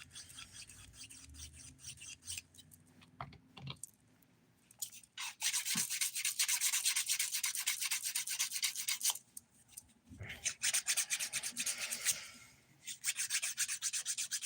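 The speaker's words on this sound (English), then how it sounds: "Now I'm just filing down the side of it here." A nail file rasps along the side of a dip powder nail in quick close strokes, bursts of gritty scraping separated by short pauses.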